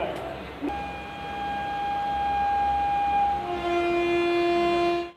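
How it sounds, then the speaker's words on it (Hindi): A Humsafar Express train pulling out of a station, a click followed by a long sustained horn with a steady tone, joined near the end by a second lower horn tone before cutting off. "ट्रेन अपने अगले स्टॉप इटारसी जंक्शन के लिए रवाना हो चुकी है"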